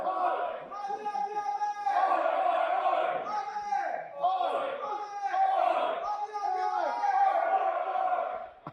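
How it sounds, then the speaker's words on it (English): A wrestling crowd at a student showcase chanting the Aussie chant for an Australian wrestler, loud rhythmic massed voices in repeated call phrases filling the hall. "listen to this crowd, the Aussie chant here for the Australian hero."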